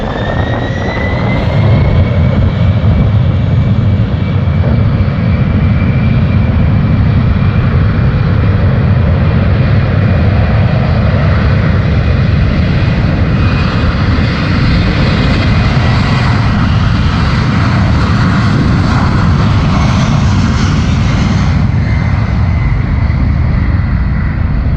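An airplane engine roars loudly and steadily at a busy airport, a dense rumble with a rising whine that holds for the full stretch as the plane gets ready to move, and no voices are heard.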